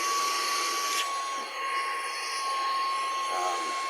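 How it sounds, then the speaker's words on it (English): A RUBOT 4-in-1 cordless handheld car vacuum cleaner runs at full suction power, a steady, close, loud whine and rush of air that holds throughout with only a brief dip. "it's got really good power to it"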